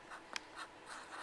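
A pen scratches briefly across paper while working through maths points, a quiet rapid stroke with a small tap, close and alone.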